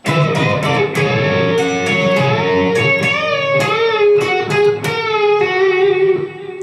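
A sustained electric guitar lick from a solo, with bent, sliding notes and a few sharp picked attacks, played loud and steady without any voices.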